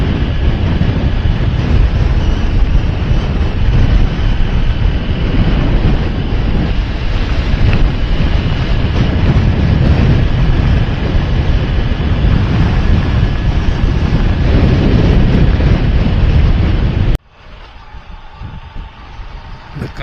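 Strong wind roars steadily across an open seaside spot near backwater and windmills on a coastal road, buffeting loudly for most of the stretch before dropping off sharply near the end.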